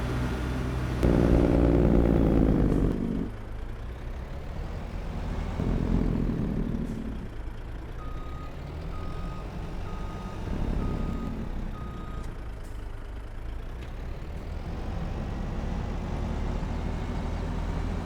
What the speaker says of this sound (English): Truck's noisy.